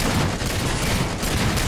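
A sticky grenade explodes in a video game, a loud dense burst of blast and gunfire-like crackle filling the whole short stretch without letting up.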